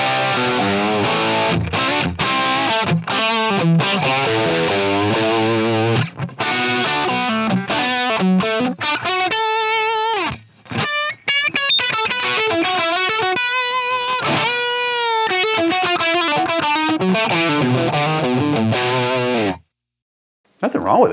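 An electric guitar on its bridge pickup plays through a Line 6 Helix Brit Plexi Bright amp model, giving a loud, distorted tone. Phrases of single notes and chords ring out continuously, with a brief pause near the end.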